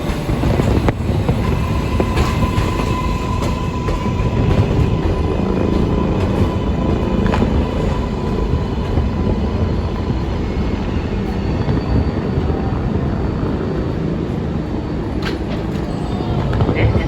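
An R188 subway car on the New York 7 line, running as a skip-stop train toward Flushing–Main Street, rumbles steadily from inside. Continuous wheel and motor noise carries faint clicks and squeals for the whole stretch.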